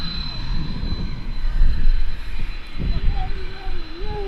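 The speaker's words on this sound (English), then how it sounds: "It's a Logan Embraer. I don't know what's making this noise." A Loganair Embraer airliner at Manchester Airport rumbles with a steady engine roar and a thin high whine, loud and near, while a person talks briefly.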